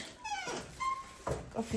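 A small dog gives a few high, thin whimpers and whines, close by, in short broken bursts.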